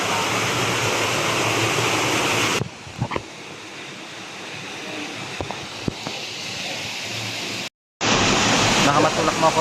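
A jungle waterfall pours with a steady, dense roar of falling water heard close, broken by a sudden shift in level and a brief dropout, with occasional voices and knocks over it.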